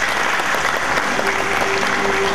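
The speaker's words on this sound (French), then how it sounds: "Il s'agit bien de Orméus Nathalie, que je vous demande d'applaudir aujourd'hui." Audience applause for the top graduate at a college graduation ceremony, continuous dense clapping from a large crowd with a faint tonal hum in the background.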